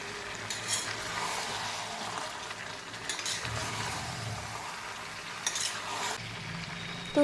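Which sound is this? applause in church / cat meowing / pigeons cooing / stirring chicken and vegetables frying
stirring chicken and vegetables frying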